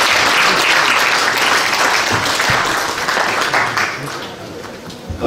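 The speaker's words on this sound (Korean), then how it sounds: "우리 수고하신 나 목사님 위해서 박수 한번" A room of attendees claps for a pastor at a launch ceremony held in a National Assembly meeting room, steady dense applause that tapers slightly toward the end, with a voice faintly mixed in.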